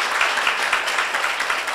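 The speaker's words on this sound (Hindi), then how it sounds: "यीशु मसीह की जोर से तालियां बजाइए पिता परमेश्वर के लिए" Applause from a church congregation, a steady, dense wash of many hands clapping throughout, fairly loud and close, with no talk over it.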